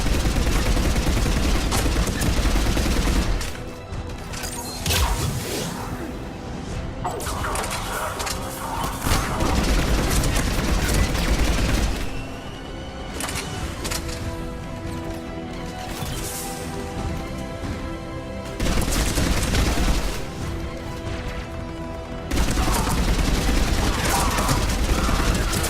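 Sustained firefight from Mass Effect 3 on Sur'Kesh, with loud, dense bursts of gunfire and crashing impacts that come in waves over a busy game soundtrack, plus scattered voices calling out.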